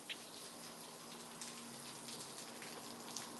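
Steady rain pours down outdoors during a Texas flood, a dense even hiss with scattered louder drops, alone with no one speaking.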